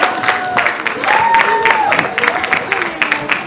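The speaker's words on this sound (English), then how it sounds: "please give yourself a round of applause" An audience of young engineers and their employers gives a round of applause in a hall, a dense, loud wash of clapping with crowd voices and a steady tone running through it.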